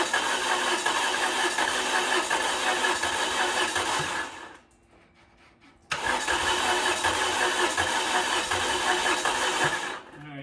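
A Dodge Omni engine cranking on the starter in two long bursts of about four seconds each, loud and close, with a brief pause between them.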